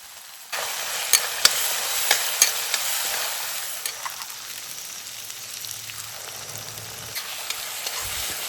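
Onion, spice paste, turmeric and salt frying in a kadai, a steady sizzle broken by sharp clicks and scrapes as a spoon stirs, close and clear, no talking.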